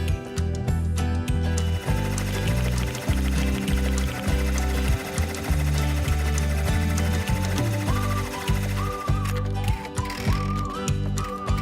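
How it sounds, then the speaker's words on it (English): An embroidery machine traces its design outline with a pocket clamp fitted, giving a steady, loud mechanical whir with rhythmic stepping pulses that run unbroken, close by, with no talk. "Do a trace to make sure your design fits safely within the window."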